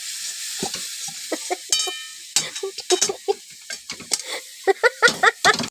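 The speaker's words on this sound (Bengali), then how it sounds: "ডোনার বাবা এখন শাক করছে শাকটা ভাজছে" Leafy greens frying and being stirred in a pan (kadai), with irregular scraping and crackling sizzle bursts close by, growing denser toward the end.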